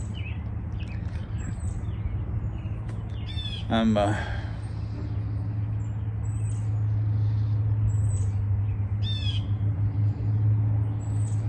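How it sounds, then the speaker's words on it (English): Birds sing outdoors in scattered, faint chirps and short trills, one louder burst standing out, over a low steady hum, with a brief spoken word from a person nearby. "listening to the birds"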